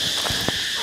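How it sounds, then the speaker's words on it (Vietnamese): Cicada buzzing after being caught by hand, a loud, continuous high-pitched drone held close, with a couple of faint low thumps from handling. "Đây là hình ảnh con ve các bạn."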